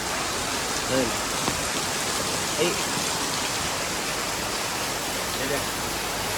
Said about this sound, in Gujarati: ઓય મોટા આમ જો તો ખરા ફૂલ ચાલુ હે વરસાદ